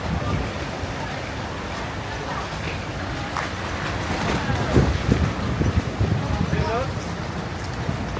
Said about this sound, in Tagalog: Sakay kaming boat.